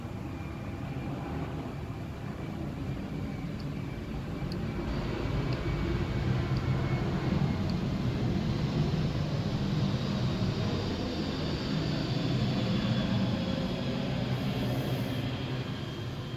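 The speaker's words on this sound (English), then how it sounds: "That is the sound of a C-17 going over." A C-17 military transport aircraft passes overhead as a steady, broad low roar that swells slightly through the middle and holds throughout, fairly distant, with no talk.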